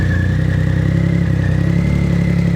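A 2006 Triumph Rocket III Classic motorcycle engine idles steadily up close after a battery recharge, a continuous loud low rumble with a faint high whine above it and no talking.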